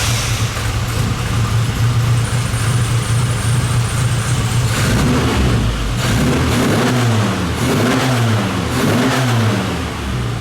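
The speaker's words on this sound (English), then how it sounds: "I'll just turn it over so you hear the facet pump initially" A classic Mini Cooper with a Facet fuel pump turns over while on choke. Loud, dense engine noise runs throughout, then rises and falls in several repeated revs during the second half, close to the microphone.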